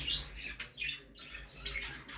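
Budgerigars chirp and squawk in short bursts, a few sharp high calls spread across the moment, fairly close with a low background rumble, in a pet shop.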